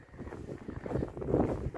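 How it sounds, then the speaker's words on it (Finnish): Light wind blows outdoors beside a road, buffeting the microphone with a low, steady rumble that swells slightly toward the end. "Vähän tuulee, mutta ei liikaa enää."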